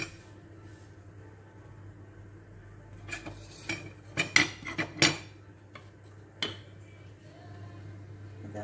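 A knife cuts eggplant on a board in a home kitchen while a tajine is prepared, giving a few scattered sharp clicks and taps that cluster in the middle, moderately close against a quiet background.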